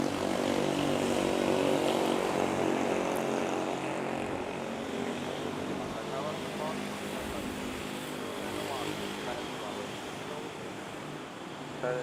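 A Philippine Airlines airliner arrives at Manila's NAIA airport and passes by, a steady loud broadband engine roar that slowly fades, with radio chatter faintly underneath.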